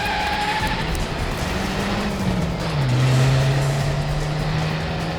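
A car driving fast during a chase, its engine loud and close, the pitch rising and then dropping into a sustained drone, with no voices.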